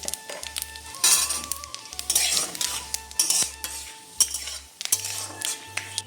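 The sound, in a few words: dried red chillies, bay leaf and panch phoron frying in mustard oil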